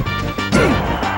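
A down smash lands in a Super Smash Bros. Melee tournament match, a sharp crash-like hit with a brief sweeping tone over continuous game sound, loud and close.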